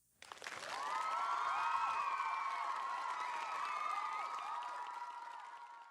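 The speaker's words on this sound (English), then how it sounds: "Cue those applause, please." A crowd's applause and cheering rises sharply after a brief silence and holds as a dense, sustained roar of clapping and whoops for several seconds before slowly easing off, loud and without speech.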